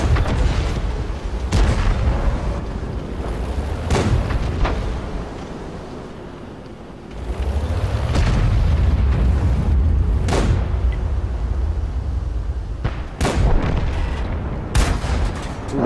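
Heavy in-game artillery and tank cannon fire from World of Tanks, with repeated booming shots at irregular intervals over a constant rumbling battle backdrop, some blasts sharp and loud, others more distant.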